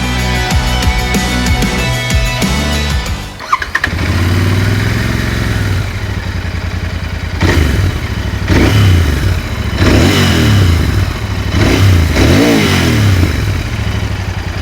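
Royal Enfield Interceptor 650 with an oil-cooled parallel-twin engine, idling with a lumpy throb, then cut briefly before being blipped through a series of sharp rising revs that fall back between each, loud and close.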